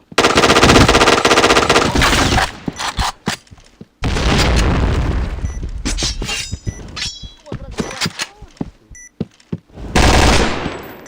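Loud gunfire from a bomb-defusal shooting video game: rapid automatic bursts, single shots and booms in dense clusters separated by brief gaps, with faint voices in the background.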